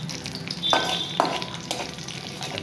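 Dried red chillies with black and white cumin spluttering in hot oil, a busy sizzle broken by a few sharp crackling pops, close and fairly quiet.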